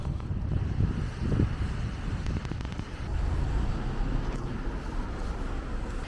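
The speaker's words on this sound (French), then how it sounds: "Ouh, le vent." Steady low rumbling wind buffeting the microphone outdoors among tall buildings in London, continuous and fairly loud, with faint distant traffic beneath it.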